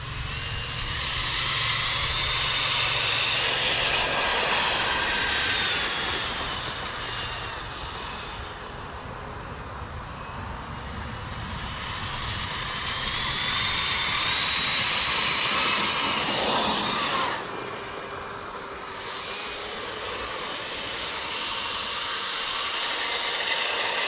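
A 34-inch RC hydro boat driven by a 90mm 14-blade electric ducted fan on 4 to 6 cell power, a loud high-pitched jet-like whine that rises and falls as the boat makes passes nearby, with no speech.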